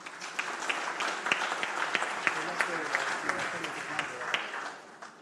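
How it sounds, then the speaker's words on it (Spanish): Audience applause at the closing session of a national congress on access to justice for people with disabilities in Lima, a steady wash of clapping for about five seconds with sharper individual claps standing out, fading at the end. "Un aplauso, por favor."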